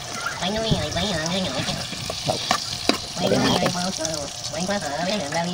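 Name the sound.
banana pancake batter frying in a hot pan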